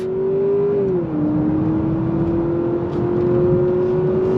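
A 2025 Honda Accord Sport Touring, front-wheel drive, accelerating on throttle during a handling drive, with a steady engine drone that dips briefly and then climbs smoothly in pitch, close and continuous, with no talking.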